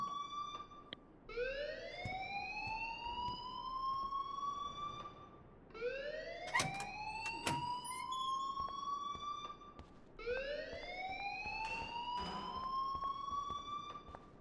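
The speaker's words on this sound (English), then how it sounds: "please turn off that alarm since that's your job" A fire alarm siren in the game Life is Strange wails in three rising-then-falling sweeps, loud and steady, each sweep lasting several seconds with brief gaps between, with no talking.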